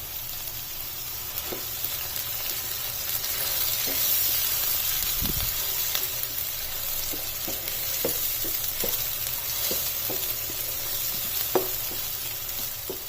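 Tomato paste sizzles steadily in a pan with garlic-ginger paste while cooking for mutton jalfrezi; a constant frying hiss runs throughout, broken by occasional light stirring taps.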